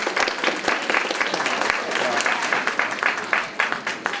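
Applause from a conference audience at a Taipei innovation and startup expo, as a company chairman is welcomed to the stage; dense, steady clapping fills the room throughout, with the claps close and continuous.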